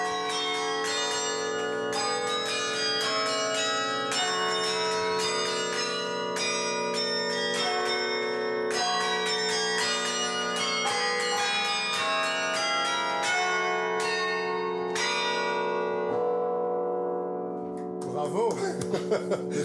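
The carillon of Sainte Gertrude in Nivelles rings out a continuous melody of struck church bells during a rehearsal, with overlapping tones and long decays, close and loud, fading into brief talk at the very end.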